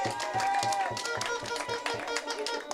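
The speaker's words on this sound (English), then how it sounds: "Let's give her a big round of applause." Audience clapping at a public political meeting in Rose Hill, a steady, dense wash of hands beating through the whole stretch with quieter voices mixed in underneath.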